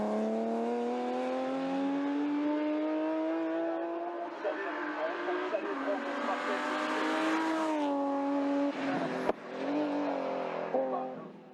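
A BMW M3 E36 race car climbing the Limonest Mont Verdun hill climb in the French mountain championship, its engine rising steadily in pitch through the gears with a brief sharp crack near the end, loud and sustained with no talk.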